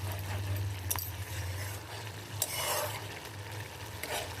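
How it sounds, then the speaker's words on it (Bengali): Puti fish curry with green tomato in mustard oil is stirred over a high gas flame: a few scraping strokes and a soft sizzle over a low, steady burner hum, with no talking. "কাঁচা সর্ষের তেল দিয়ে একটু আলতো করে নেড়ে দেবো"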